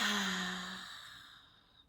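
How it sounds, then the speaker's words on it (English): A deep, slow breath during a guided breathing exercise, heard as a close, voiced sighing exhale that fades steadily over about two seconds. "one last time, deep inhale and exhale"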